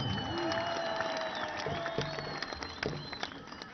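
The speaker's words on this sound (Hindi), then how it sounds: "एक बड़ी ताली तो बनती है ना" A large crowd at a PTI political rally in Quetta claps and cheers in a continuous wash of applause. Scattered sharper claps and shouts stand out, and sustained whistle-like tones run through the noise.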